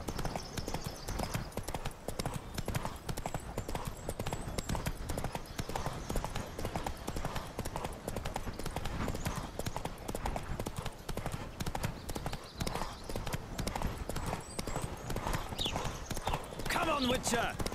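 Steady clip-clop of galloping hooves in The Witcher 3: Wild Hunt runs throughout, fast and rhythmic, with a horse whinnying briefly and voices talking over the ride.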